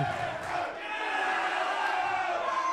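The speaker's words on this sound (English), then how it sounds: "using the noise of the crowd to make a move" Crowd at a live CS:GO esports match (Grayhound vs Kings) roars and cheers in a steady, loud wash of voices that swells slightly midway and holds for under three seconds.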